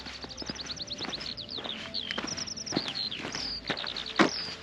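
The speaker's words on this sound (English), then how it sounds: "Can you hear those skylarks?" Skylarks singing high over Hay Bluff on an open hillside hike, rapid trilling chirps and warbles running continuously, with footsteps crunching nearby beneath the song.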